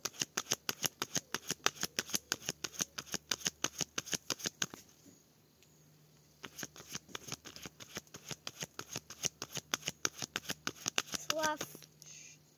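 An oracle card deck is shuffled in rapid, crisp riffling bursts that pause briefly and then resume, close and steady, with a brief voice near the end.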